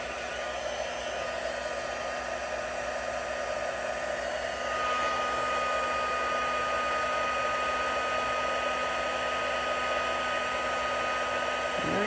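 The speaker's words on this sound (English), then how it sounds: "heat tool." A heat embossing tool blows hot air in a steady, loud whooshing roar that runs unbroken for about twelve seconds, swelling slightly partway through, with no talking.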